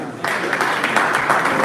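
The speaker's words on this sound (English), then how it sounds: "Please clap for him as he comes to the stage." An audience at a convention evening session bursts into clapping as a speaker walks up to the stage, the applause starting abruptly and holding steady, with some voices mixed in.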